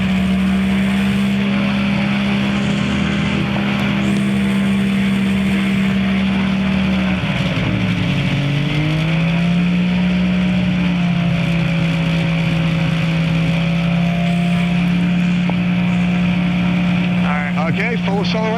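A small airplane engine holds a loud, steady drone while the aircraft runs up to full power for a takeoff roll during a flight lesson, its pitch dipping briefly and then settling higher; an instructor's voice talks over it.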